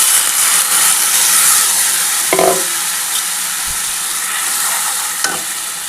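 A spice paste of green chilli, tomato, salt, turmeric, sugar and cumin powder hits hot mustard oil and ghee for arhar dal, giving a loud, steady sizzle with some stirring and no voices.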